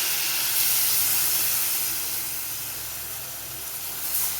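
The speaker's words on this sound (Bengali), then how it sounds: "এবারে আমি দিয়ে দেবো জল, পর্যাপ্ত পরিমাণে জল, যাতে ভালোভাবে আলুগুলো সেদ্ধ হয়ে যায়" Water poured into a hot pan of spiced egg and potato curry sets off a loud, steady hiss and sizzle that fades slightly as it settles, with no voices.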